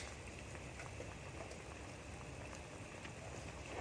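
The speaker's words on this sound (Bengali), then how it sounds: "এরকম ঝোল ফুটে উঠেছে" Curry broth with brinjal at a steady boil in a pan before tangra fish goes in, a faint, even, continuous bubbling patter with no voices.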